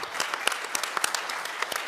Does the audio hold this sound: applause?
yes